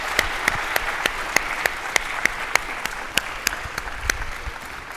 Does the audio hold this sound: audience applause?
yes